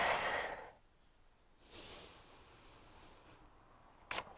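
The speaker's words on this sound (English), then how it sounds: "Inhale down. Exhale, blow out all your air." Deep breathing during a Pilates breathing exercise: a strong, close exhale blowing out air at the start, then a quieter long inhale, ending with a short sharp breath sound.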